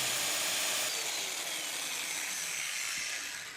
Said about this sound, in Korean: 목재와 목재를 붙여줄 도미노 칩을 넣을 구멍을 뚫어주는 도미노 기계